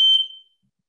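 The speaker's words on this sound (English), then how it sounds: "Oh dear, the alarm is going off." During a memorial gathering, an alarm gives a single short, piercing electronic beep that fades within half a second into silence.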